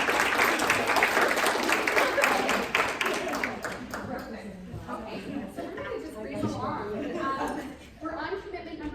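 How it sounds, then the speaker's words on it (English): Audience applause at an American Medical Association event, a steady wash of clapping from a sizable crowd that gradually thins out, heard at moderate level. "let's give them a huge round of applause"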